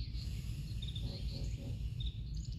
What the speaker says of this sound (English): you're gonna hear the sound of nature, the birds, the animals